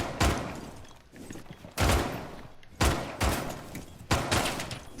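Gunfire in a Rainbow Six Siege match, five loud, widely spaced shots roughly a second apart, each a sharp blast with a short decaying echo.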